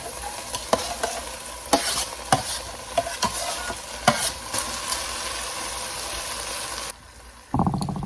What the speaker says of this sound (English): I'll add chopped onion.